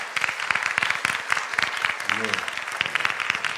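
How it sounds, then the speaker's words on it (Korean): A church congregation at a Bible study gathering claps steadily in a dense, close round of applause, with a voice speaking briefly over it. "박수합니다"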